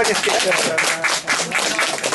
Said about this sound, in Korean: 우리 강사님께 큰 박수 한번